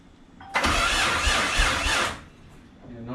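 A VR4 car engine with no fuel pressure cranks over with a loud, broad whirring rush for about a second and a half, then cuts off without catching.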